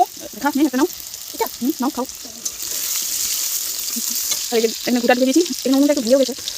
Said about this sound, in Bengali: একদম পেঁয়াজটাকে ভেজে নিই বন্ধুরা টমেটোটাকেও দিয়ে দিয়েছি টমেটোকেও কষিয়ে নিলাম